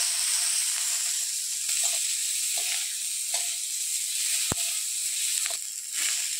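Onions sizzle in a pan while small fish are cooked at home, a steady close hiss with scattered faint pops and clicks, no talking.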